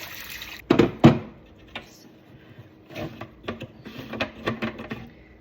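Water being poured and emptied out of a dirty household humidifier during cleaning, heard as a few close, irregular splashing bursts followed by lighter trickles and small clunks.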